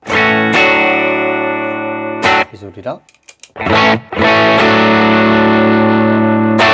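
Electric guitar run through a pedalboard chain with delay and distortion, ringing out loud and sustained chords, broken mid-way by a short spoken phrase before the heavy tone returns.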